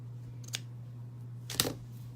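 Scissors snip card stock for handmade card making, two short crisp cuts about a second apart, close and quiet over a steady low hum.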